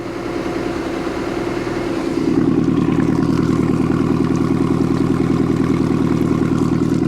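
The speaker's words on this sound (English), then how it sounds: "As far as the engine noise is quieting down, she's up to operating temperature now" A 1976 Mercruiser 120hp boat engine runs steadily at operating temperature, a loud, even mechanical drone with rhythmic pulsing that rises slightly in level about two seconds in and then holds constant.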